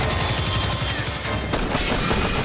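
Heavy video-game gunfire, a dense loud fusillade of rapid shots with booming impacts layered over a constant roar of battle.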